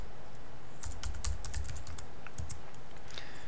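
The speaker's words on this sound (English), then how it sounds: "I'm going to type in facilities." Keys clatter on a Mac computer keyboard in quick, uneven bursts of light clicks with short pauses between them, close and fairly quiet, with no voices.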